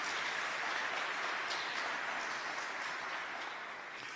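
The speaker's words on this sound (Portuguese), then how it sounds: "Pode aplaudir, pode aplaudir" Sustained applause from an audience at a lecture on the treatise of true devotion, a steady hiss of many hands clapping that gently tapers off near the end, with no voices.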